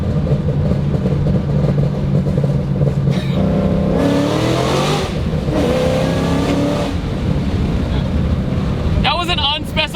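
A 1000HP Shelby GT500 Mustang engine revs and accelerates loudly and close, its tone rising through the gears, with a brief popping burst near the end. Someone talks over the engine throughout.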